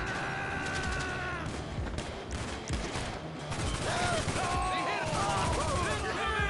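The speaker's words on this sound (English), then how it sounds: "Still getting shot at." Gunfire crackles through a GTA Bikers game session, bursts of shots mixed with game noise and effects, fairly loud throughout with no clear speech over it.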